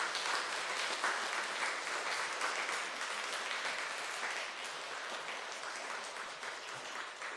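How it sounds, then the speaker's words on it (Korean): A church congregation applauds warmly during a Sunday service, steady sustained clapping from many hands filling the room at a moderate level for several seconds, with no talk over it. "나오실 때 우리 사랑과 감사의 마음으로 박수해 주시기 바랍니다."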